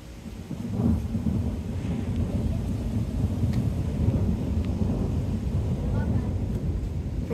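Deep rolling thunder rumbles continuously through the whole stretch, low and heavy, with rain hissing faintly in the background.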